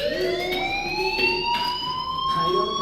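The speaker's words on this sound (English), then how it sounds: "Hey, do you hear that fire alarm?" A fire alarm rings in the video game Life Is Strange, a loud continuous electronic tone with a slowly shifting pitch and faint pulsing, close and unbroken.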